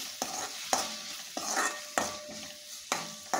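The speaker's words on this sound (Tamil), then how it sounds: "இந்த தக்காளி கூடயே காரத்துக்கு சில்லி பவுடர், மஞ்சள் பொடி, கரம் மசாலா போட்டு நல்லா வதக்குவோம்" Tomatoes sautéed with chili powder, turmeric and garam masala for a chickpea masala sundal, stirred in steady strokes roughly every half second, each scrape landing over a soft, continuous sizzle.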